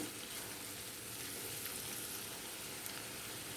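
Onions fry in a pan with a little salt for a cauliflower, chana dal and tomato dish, making a dense, close, steady sizzle that runs throughout without any speech.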